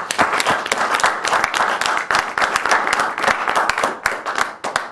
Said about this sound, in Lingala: Est-ce que nous pouvons acclamer pour ça?